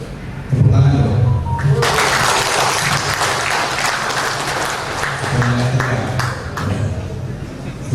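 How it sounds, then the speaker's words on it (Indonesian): Audience applause at an inauguration ceremony, a crowd of hands clapping steadily and fairly loudly, with a voice and some ringing tones heard under the clapping near the start and again later. "Tepuk tangan dong."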